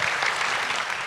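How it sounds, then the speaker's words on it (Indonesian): Studio audience applause for the psychologist Zoya, a dense, steady burst of many hands clapping together, loud and close, with no talk over it. "Tepuk tangan lagi dong buat Zoya"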